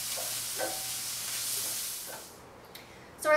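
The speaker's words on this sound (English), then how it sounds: "sun-dried tomatoes, Kalamata olives, and garlic and jalapeno are nice and sizzling in the pan." Sun-dried tomatoes, Kalamata olives, garlic and jalapeno sizzle loudly and steadily in a hot pan, a bright hiss that fades after a couple of seconds, followed by a few light clinks.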